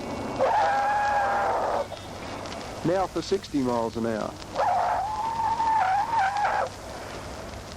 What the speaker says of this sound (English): Just listen to a full panic stop from 50 miles an hour.